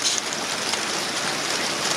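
Water running over a stone waterfall on a farm, a steady broadband splashing hiss, close and continuous for the whole stretch with no voices.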